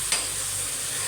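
Spice paste fried and stirred in a pan for a Bengali-style dish, with a steady close sizzle and one brief scrape of the spoon near the start.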